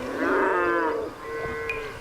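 A cow lowing in two long, loud moos, the first rich and drawn out, the second quieter and steadier, with no talk over them.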